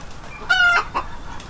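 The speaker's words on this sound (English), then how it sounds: "we still have our red mottled single comb rooster over here, and he's the boss of the flock" A red mottled single comb rooster and hens sound off in a breeding flock, one short, loud, close cluck-crow burst rising over a quiet farmyard background.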